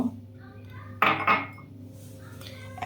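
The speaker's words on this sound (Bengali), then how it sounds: "দিয়ে এখন ভালো করে ডিমের সাথে ফেটিয়ে নিব।" Eggs and sugar are beaten together in a bowl for a homemade chocolate cake, a couple of sharp metallic clinks of the utensil against the bowl standing out over a quiet kitchen hum.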